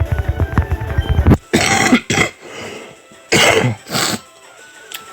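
A sick man coughs and clears his throat in several harsh, close bursts, separated by short pauses of near silence after a stretch of quieter sound at the start.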